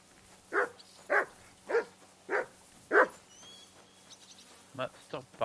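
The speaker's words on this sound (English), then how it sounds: "stop barking at the sheep." Dog in Kingdom Come: Deliverance 2 barking at sheep: five evenly spaced loud barks, then a few quicker, fainter yaps close by over a low steady hum.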